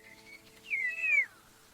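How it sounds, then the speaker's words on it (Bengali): A small cat gives a single drawn-out meow, rising then falling, close and clear against a quiet background after a faint shorter call. "ছোট্ট বিড়ালটা জঙ্গলে ঘুরে বেড়াচ্ছিল, একদম সাহসী ছোট্ট অভিযাত্রীর মতো।"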